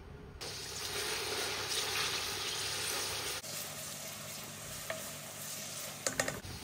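Onions fry on medium heat in a pan with a steady, close sizzle and stirring hiss that shifts partway through, then a few sharp knocks near the end.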